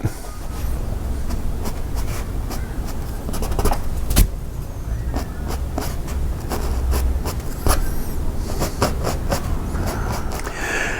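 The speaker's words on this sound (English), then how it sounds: "I'm just, again, dragging a dry brush." A dry brush loaded with acrylic paint drags across canvas in a long run of short, scratchy strokes, close and fairly steady, with occasional sharper taps between them.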